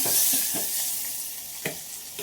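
Spices crackle and sizzle in hot oil for dal tempering, a close, continuous fizz broken by a few soft stirring knocks.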